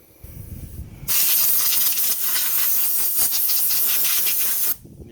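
Compressed air blasts out a lawn mower carburetor in one loud, steady hiss that lasts nearly four seconds and stops abruptly, close up and with no talking.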